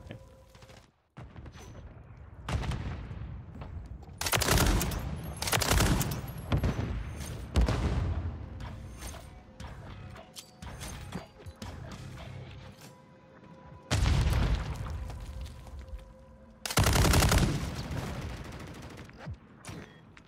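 Heavy sniper rifle firing in Modern Warfare 3, several loud booming shots with long echoing tails separated by quieter gaps, plus some smaller clatter in between.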